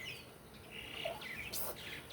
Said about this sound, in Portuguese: Ó, tu tá ouvindo o barulho do pássaro?